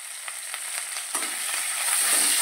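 Turmeric, slit green chilli and salt sautéing in a pan for spinach dal, a bright steady frying hiss with a few light stirring taps, rising slightly toward the end.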